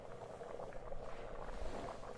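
A pot of soup with green beans simmers on the stove, giving off a faint, soft bubbling and gentle patter under low background noise.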